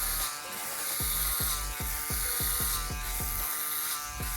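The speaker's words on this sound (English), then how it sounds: "You can never get an electric shaver to cut faster than this." Electric shaver cutting through big swaths of hair during a haircut, a steady close buzzing hum with repeated rhythmic strokes about every half second as the clippers pass over the head.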